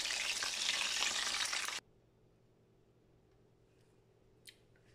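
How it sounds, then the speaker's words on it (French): Fish frying in a pan with a loud, dense sizzle for under two seconds, then cut abruptly to a quiet room with a faint click. "Je finis de frire le poisson"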